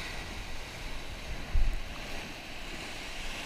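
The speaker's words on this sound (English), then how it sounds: "When you do have swell here where the whitewash is coming over, when the water comes over, try not to walk through it." Whitewash from swell washes over an exposed reef along a beach, a steady broadband rush of surf with wind noise on the microphone and a brief low thump midway.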